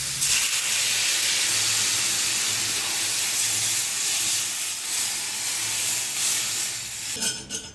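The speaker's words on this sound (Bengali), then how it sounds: "দশ মিনিট সেদ্ধ হোক, আমি ঢাকা দিয়ে দেবো।" Bengali fish curry boiling in a pot, a broad steady hissing bubble like rushing steam, constant and fairly loud, fading briefly near the end with a clatter, no speech.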